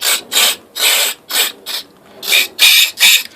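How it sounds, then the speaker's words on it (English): Close, loud hissing blasts of aerosol carburetor cleaner sprayed through a Honda EU2000i generator carburetor passage, about eight short bursts, each cutting off sharply. "we'll spray down, see if it"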